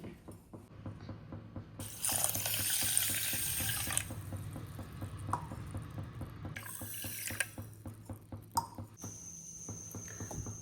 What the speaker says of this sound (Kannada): ಇದಕ್ಕೆ 1/4 ಲೋಟದಷ್ಟು ನೀರು ಹಾಕ್ತೀನಿ